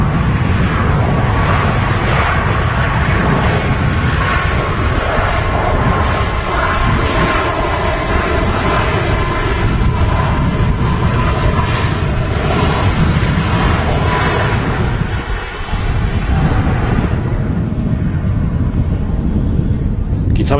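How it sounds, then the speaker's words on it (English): A Turkish Airlines Boeing 737 MAX 9 jet airliner from Antalya roars at Manchester Airport, a loud, continuous broadband engine rumble that holds steady for about twenty seconds, close and overpowering. "Here we go, Turkish Airlines, second flight of the stream, this time with the 737 MAX 9"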